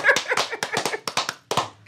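A few people clapping on a live radio talk show, sharp separate claps in an uneven rhythm, close and fairly loud, with brief gaps between bursts.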